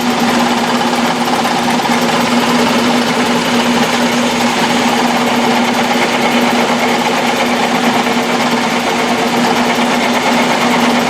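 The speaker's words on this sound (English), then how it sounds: "I'm going to take a light cut across it, remove that trademark" Metal lathe taking a light cut across a part to remove a trademark, a steady continuous whirring hum with a constant tone, running alone throughout at moderate loudness.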